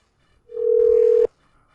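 A single steady telephone tone sounds for under a second on a call that fails to connect, clear and close, then cuts off abruptly into near silence.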